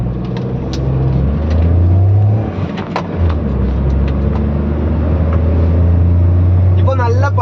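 A car with a K-series three-cylinder engine starts and pulls uphill, its low, even engine drone steady and close, with a brief rise in revs near the end.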